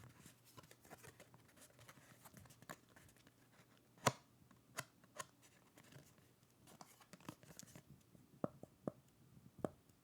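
Marvel trading cards are handled and shuffled in scattered soft clicks, taps and light rustles, faint and close, with a few sharper snaps.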